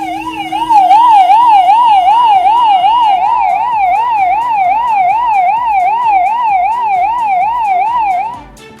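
A loud electronic forest department siren, sounded to drive an elephant back into the forest, warbles rapidly up and down in a steady repeating cycle, then cuts off near the end.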